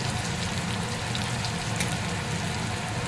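Onion frying in a pan for Punjabi kadhi, a dense, steady sizzle with small crackles and pops throughout, close and loud, with no talk.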